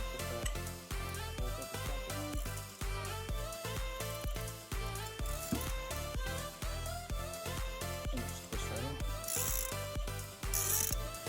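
Close, quiet clicking of a ratchet at work while removing the oil filter on a 2015 Audi Q5, a fast run of pawl clicks that continues with short pauses and some metallic handling noise.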